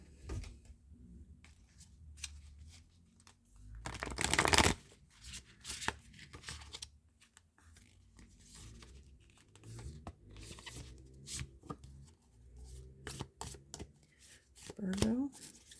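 A deck of tarot or oracle cards being shuffled: soft rustling and slides build to a crisp riffling burst midway, then scattered light flicks and a second short burst near the end, all fairly quiet and close.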